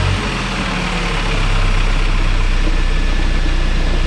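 An Audi A4 engine idles steadily after an oil change, a low continuous rumble heard up close, its level stepping up slightly partway through and then holding even.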